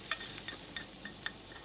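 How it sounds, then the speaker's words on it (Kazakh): Chicken pieces fry in a pan of oil as a utensil stirs them, giving a soft steady sizzle with a few light scraping knocks, fairly quiet and with no talking. "Міне осылай әдемі болып қуырылады."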